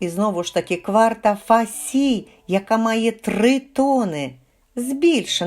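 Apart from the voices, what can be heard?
No everyday noises stand out.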